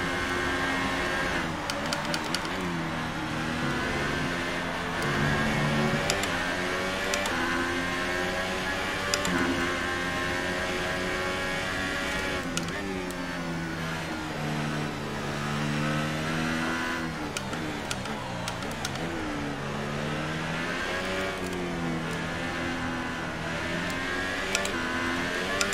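An F1 2018 race car engine drones loud and steady throughout, its pitch climbing and dropping repeatedly as it shifts through the gears, with no talk over it.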